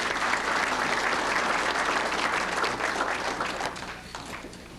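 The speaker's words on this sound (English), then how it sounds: "Give her a nice round of applause." Banquet audience applauding at a sports hall of fame dinner, steady dense clapping filling the room that holds strong for several seconds before gradually thinning out toward the end.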